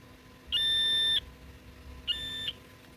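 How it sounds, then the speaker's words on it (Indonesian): A continuity tester buzzer, used while checking the wiring of a broken electric fan, gives two clear electronic tones, a longer one followed by a shorter one, loud and close with no talking. "Nanti jika buzzer ini berbunyi berarti"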